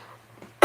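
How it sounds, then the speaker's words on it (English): A single short, forceful throat clear bursts out at the end, loud and close after near silence. "to clear my throat, sorry"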